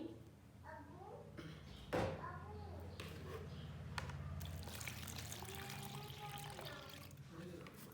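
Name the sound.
water poured onto ground wheat for nishasta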